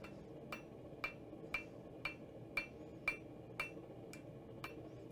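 Metal struck with a hammer on the horn of an anvil, about ten evenly spaced ringing clinks roughly every half second, sharp but fairly quiet over a low background hum.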